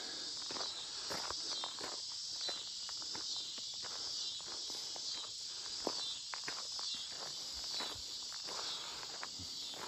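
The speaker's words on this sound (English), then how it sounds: "Nice cicada singing." A cicada sings in a forest at sunset beside a prairie trail, a continuous high buzzing drone over soft footsteps on the path. There is no talk.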